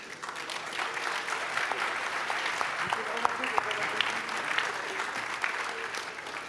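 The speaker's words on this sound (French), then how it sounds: "Bravo, vous pouvez l'applaudir." An audience at a public debate applauds a former president of France with steady, moderately loud clapping, and a voice or two murmurs beneath it.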